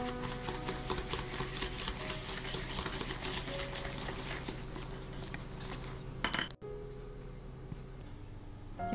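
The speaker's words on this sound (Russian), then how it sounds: "Добавляем яичные желтки, ванильный сахар и хорошо размешиваем." Egg yolks, sugar and vanilla sugar are stirred in a bowl, giving a steady run of rapid clinking taps against the bowl that continues for several seconds before a sharper clatter and a quieter tail.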